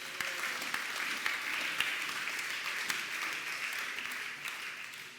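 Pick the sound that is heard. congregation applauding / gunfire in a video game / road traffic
congregation applauding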